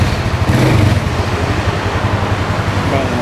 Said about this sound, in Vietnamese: bây giờ mình sẽ nổ máy nghe thử nha